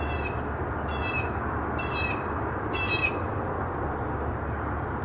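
A bird squawks in repeated harsh bursts, about four close calls with a couple of thin chirps between, over a steady bed of heavy pouring rain on a humid morning.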